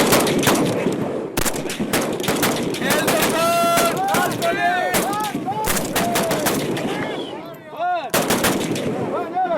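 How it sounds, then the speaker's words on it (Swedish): Rifles fire in a volley at a shooting range during Swedish military training in Afghanistan, sharp loud cracks repeating over several seconds as voices call out between the shots. "Då skjuter vi ett skott var."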